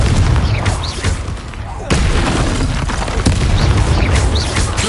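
Blasts from the fire spell Confringo in Hogwarts Legacy during a fight with a troll land as loud, dense booms over a constant roar of combat noise, with a brief dip before the bursts resume.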